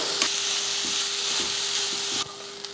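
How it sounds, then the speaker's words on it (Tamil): Grated carrot sautéed with a pinch of salt in a pan for a sweet carrot filling, giving a steady moderate sizzle with a few soft stirring scrapes and a slight drop in hiss near the end. "ஒரு பிஞ்ச் அளவுக்கு உப்பு சேர்த்துட்டு நல்லா வதக்கி விட்டுடலாம்"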